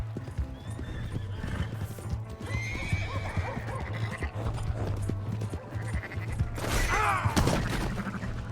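A horse whinnies loudly over galloping hooves in Red Dead Redemption 2, with a low engine-like hum and some background voices.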